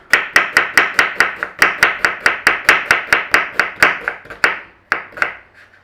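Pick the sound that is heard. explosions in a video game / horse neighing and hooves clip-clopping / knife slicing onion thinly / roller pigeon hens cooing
knife slicing onion thinly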